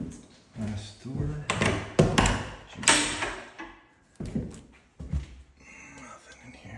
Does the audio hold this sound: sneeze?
no